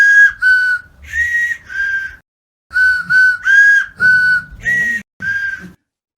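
Homemade carrot whistles play the Happy Birthday tune in clear, breathy, pitched notes, two phrases of short toots separated by a brief pause, loud and alone.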